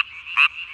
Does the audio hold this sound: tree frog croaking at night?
yes